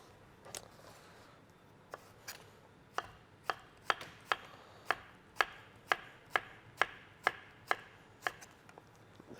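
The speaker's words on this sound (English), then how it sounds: "So chopping them up like so." A knife chops snow peas steadily on a cutting board, crisp evenly spaced thuds speeding into a regular rhythm, close and fairly quiet.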